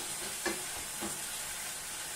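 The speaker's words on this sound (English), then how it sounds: "Turn the heat up a bit more so it starts to sizzle." Noodles sizzle steadily in a hot stir-fry pan, a soft, even broadband hiss with two brief stirring scrapes, heard close and quiet with no talking.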